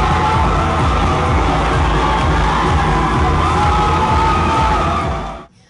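A large crowd cheers and yells loudly as marathon captains run in for their entrance, a dense sustained roar of shouts and whoops that cuts off abruptly at the end.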